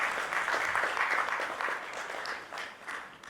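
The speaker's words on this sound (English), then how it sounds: "Ladies and gentlemen, let the applause continue." Sustained applause from the audience at a procurement leaders summit panel, a dense steady wash of many hands clapping throughout, easing slightly toward the end with no talk over it.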